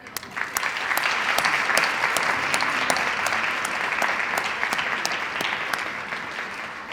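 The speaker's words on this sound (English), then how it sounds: "I want to ask the planning committee to stand for a round of applause" An audience applauds a planning committee at a summit, with steady sustained clapping from a crowd that swells early and continues evenly for several seconds, moderately loud.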